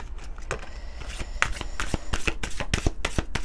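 Oracle cards from the Oracle des énergies lumineuses deck being shuffled by hand, a close, steady patter of soft riffling slaps and flicks for several seconds with no talking.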